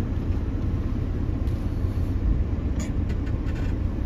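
A Mitsubishi Pajero creeps downhill off-road in four-low first gear at a rocky off-road park, its engine a steady low rumble close by with faint rattles and clinks from the vehicle.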